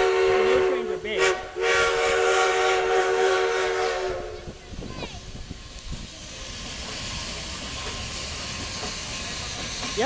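A Durango and Silverton steam locomotive sounds its loud whistle in several blasts over steady hissing and rumble at a railfest, then the whistle fades, leaving chuffing and rolling rail noise, with faint talk nearby.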